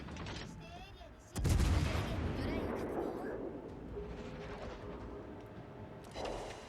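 In a naval video game, 8-inch shells ricochet off the Graf Spee. A sharp loud impact crack is followed by rumbling, scattered booms that decay slowly, under faint voices.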